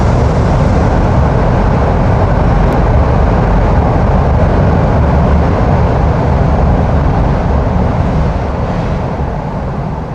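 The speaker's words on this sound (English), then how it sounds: "here's another train" Train passing by, a loud continuous rumble and roar filling the whole stretch, steady and close throughout with no speech.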